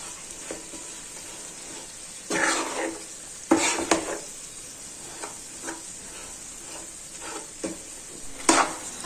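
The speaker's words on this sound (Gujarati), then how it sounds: "ગોળને પ્રોપર રીતે મિક્સ કરી દેશું ગોળ પ્રોપર રીતના ઓગળી જાય ત્યાં સુધી ગેસની ફ્લેમ છે તે આપણે સ્લો રાખેલી છે" Jaggery being stirred as it melts in a pan over a low gas flame, with steady frying sizzle and several scraping, clattering spoon strokes against the pan, close and without talk.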